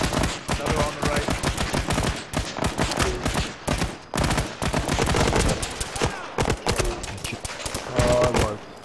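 Rapid incoming gunfire in a military game on the island of Tanoa, loud dense volleys and bursts of shots cracking almost without pause from start to finish.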